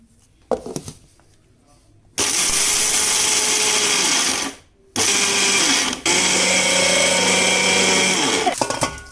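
Mixer grinder blitzing dry pappulapodi powder in loud bursts, one whine running about two and a half seconds, a brief pause, then a second longer run near the mic that ends with a rattle.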